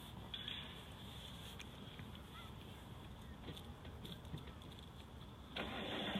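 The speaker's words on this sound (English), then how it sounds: "He just wants to get his car in the video" A car engine starts and runs near Pooley Bridge at sunset, a faint, steady low rumble that swells noticeably louder near the end, heard outdoors with no talking.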